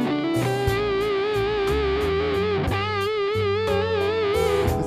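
Electric guitar through a distorted Fullerton amp model on an HX Stomp Helix, playing thick sustained chords with vibrato over a jam track with drums and bass, loud and steady with no talk.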